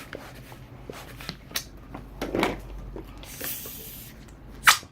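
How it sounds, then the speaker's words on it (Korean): A 260 modelling balloon is pumped up for a flower craft, giving short airy hissing puffs and rubbery squeaks in uneven bursts, close and fairly quiet, with a sharper squeak near the end. "자260 풍선은 끝에 5cm 당기고 불어서"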